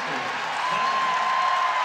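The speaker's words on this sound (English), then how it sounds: "the Gator fans respond with big applause" Gator fans in a volleyball arena applaud after a block at the net in an NCAA women's tournament match against Florida State, a steady broad wash of crowd clapping and cheering throughout, with a faint tone running beneath.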